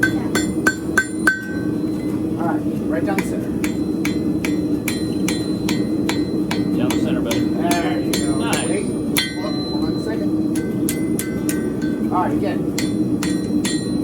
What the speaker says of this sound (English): Let the hammer do the work.